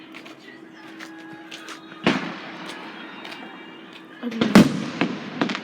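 Fireworks going off outdoors, with a loud sharp bang followed by a burst of crackling pops, amid background noise and a person talking briefly.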